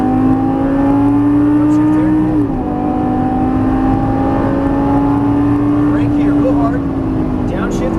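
A Lamborghini Gallardo Superleggera LP570-4 pulls hard down a track straightaway, its loud engine note climbing steadily with a brief dip at a gear change, while a voice talks over it.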